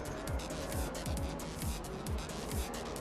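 F1 race cars in the F1 2015 video game during a race at the United States round, including a Williams, with engines whining past in repeated quick sweeps and falling pitch, several cars following one another in close succession.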